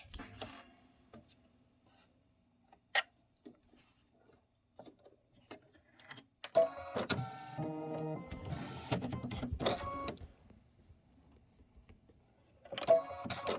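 A Kimberbell embroidery machine stitches a blue outline, starting with scattered light clicks and then whirring in a rapid, rhythmic buzz for a few seconds, stopping, and starting again briefly at the end.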